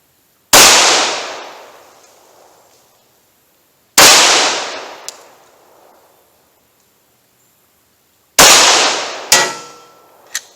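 Three loud gunshots from full-size handguns, a .45 Auto Glock and a .357 Magnum, fired at about 7 yards on a range: sharp cracks with long decaying echoes, spaced several seconds apart, the last followed by a quick extra report.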